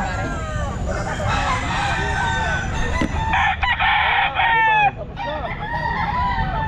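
Stag roosters crow repeatedly at a busy pet market, loud and close, with overlapping calls and clucks from other fowl over a dense crowd murmur and nearby talk.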